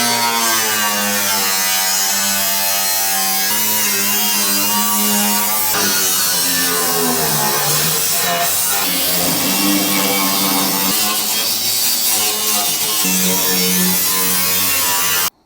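A cutoff wheel grinds through front sheet metal on an Apache build, a loud, close, continuous high-pitched whine whose pitch dips and rises as the wheel bogs into the cut, stopping abruptly at the end.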